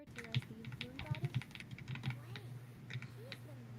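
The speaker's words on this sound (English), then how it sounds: "I forgot my keyboard is like ungodly loud" A loud computer keyboard rattles with quick, close clacking keystrokes in uneven bursts during a game stream. Faint game audio or voices sit underneath.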